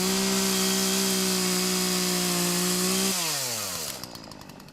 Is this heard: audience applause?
no